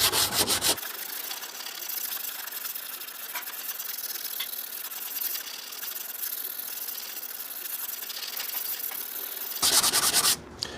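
Steady abrasive rasping of a sanding block worked back and forth over body filler on a car body panel, continuous and close, with brief louder scuffs at the start and end.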